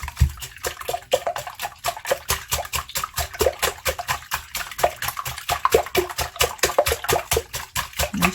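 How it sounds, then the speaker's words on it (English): Quinoa breakfast bake mixture whisked briskly in a bowl, a fast steady run of wet clicking taps and sloshes repeating evenly for several seconds, close and fairly loud. "Make sure you whisk it very well"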